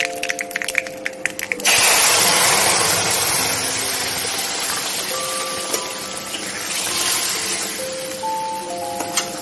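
Water is poured from a rinsed bowl into a pot of cooking lentils tempered with bay leaf and curry leaves, a short splashing gush followed by a steady sizzling bubble close by, with no talk.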